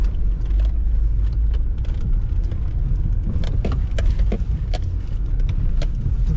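A car passes on a dirt road with a steady low rumble of engine and tyres, and loose gravel or stones ticking and popping under the wheels throughout.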